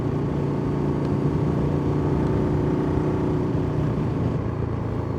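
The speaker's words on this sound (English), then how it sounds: "How does my bike sound? Is it sounding good?" Steady motorcycle engine drone while riding behind a slow car, a continuous close, even hum with no speech over it.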